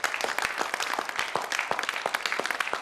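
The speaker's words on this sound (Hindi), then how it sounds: "आपकी तालियां।" A live audience at a poetry and shayari show breaks into lively clapping that stays steady and crisp for a few seconds, with no talk over it.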